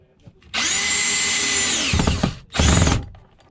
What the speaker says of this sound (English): and drill it in.